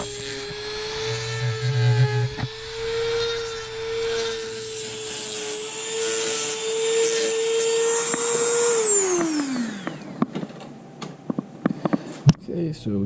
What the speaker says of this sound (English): to smooth it up a little bit more, I'm going to use my Dremel here